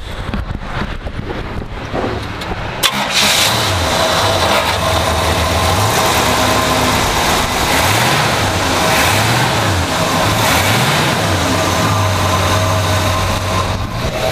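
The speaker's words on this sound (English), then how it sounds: "As you can see, it idles very smooth." A 1970 Pontiac GTO V8 idling under the open hood, a steady close low rumble with slight rhythmic wavering, heard alone with some wind noise on the microphone.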